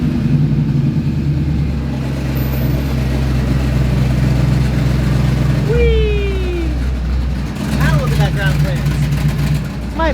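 An air compressor running steadily and loudly to inflate the airbag suspension on a 1960s Chevy pickup, a constant mechanical drone close by, with brief squeaks and faint voices over it.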